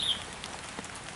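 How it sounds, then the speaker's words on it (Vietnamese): Heavy rain pours during a stormy day, a steady, faint hiss of drops on surfaces with no voices over it. "mưa to quá rồi"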